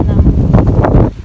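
Gusty wind blows across a Marks and Spencer car park in the UK, a rough low roar hitting the microphone close up, while a voice talks over it.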